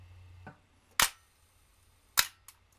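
A camera shutter fires close by with two sharp, crisp clicks about a second apart, each followed by a softer tick in otherwise quiet surroundings.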